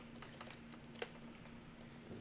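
Fingers tapping a computer keyboard in quick, uneven bursts of soft clicks with one sharper keystroke, heard close and faint over a steady low electrical hum, with no talking.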